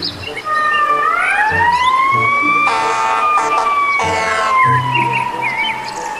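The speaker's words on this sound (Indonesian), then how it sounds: "mobil pemadam kebakaran" A toy fire truck's loud electronic siren wails up and down, close and continuous, with a few chirpy tones flickering through it.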